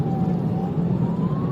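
A police car siren wails continuously and loudly, close by, with a steady engine rumble underneath, as the car drives through light traffic during a high-speed chase.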